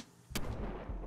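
A sudden sharp explosion in the video game Totally Reliable Delivery Service, a single loud burst followed by a rumbling tail and a second softer thump.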